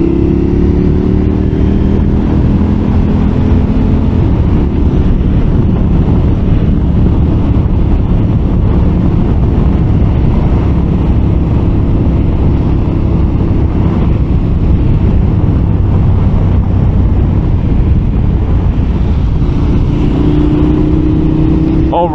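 A 2023 KTM 1290 Super Adventure S motorcycle at riding speed, its engine drone steady and loud throughout under heavy wind rush on the microphone, with no clear gear changes standing out.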